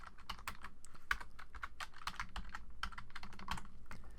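Quick, uneven keystrokes on a computer keyboard as a short greeting is typed into image-editing software, a dense patter of close, light clicks with no talking.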